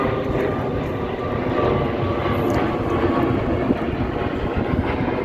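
An airplane passes overhead on the flight path above a residential neighbourhood in South Korea, a steady, fairly loud engine roar that fills the whole stretch without easing.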